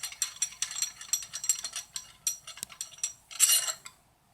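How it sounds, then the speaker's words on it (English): A stud with a spacer is threaded by hand into an engine crankshaft for a damper puller, giving a close run of quick metallic scrapes and clicks in uneven bursts with a louder rattle near the end. "Okay, I'm going to screw that in."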